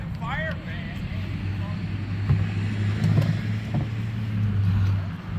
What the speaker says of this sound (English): there goes the fire truck